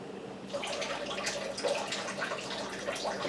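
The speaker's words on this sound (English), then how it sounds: "To that I'm going to be adding 4 tablespoons of water" Four tablespoons of water are added to a crumbly flour and butter mixture for apple pie crust, giving a faint, soft trickle and splash that is quiet and close, with no talking.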